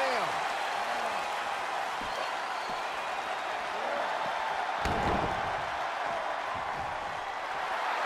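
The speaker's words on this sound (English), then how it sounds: "The sound of this crowd is deafening, and he's asking for more." A video game wrestling crowd in WWE 2K22 roars in a dense, continuous wash of cheering, with a sharp slam-like impact midway and a commentator's voice under the noise.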